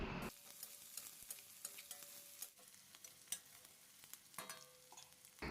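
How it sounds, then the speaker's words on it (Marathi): Onion sautéing with garlic and chilli for chana chaat, heard as a quiet, steady sizzle with frequent crisp scraping and tapping of a spoon stirring in the pan. "कांदा आता आपल्याला गोल्डन कलरचा होईस्तवर छान परतवून घ्यायचा आहे"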